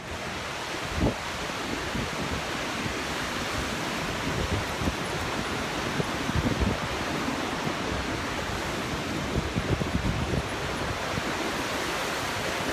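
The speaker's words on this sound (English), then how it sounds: "Look at the waves." Ocean surf and strong wind roar together in a dense, unbroken wash, with gusts buffeting the microphone and occasional louder thumps, no voices.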